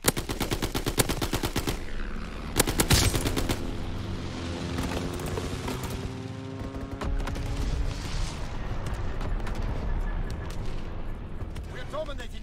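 In Call of Duty, an aircraft strafing run rips out rapid bursts of gunfire, then bombs land with heavy booms and a rolling rumble, loud and close, while in-game voices call out now and then.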